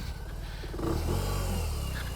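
A BMW R18 cruiser motorcycle engine pulls in first gear, its low rumble rising into a louder, sustained rev about halfway through, close and continuous with no talking.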